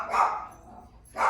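Dogs barking somewhere in a home, two loud bursts at the start and end of a short stretch, with a quieter gap between them.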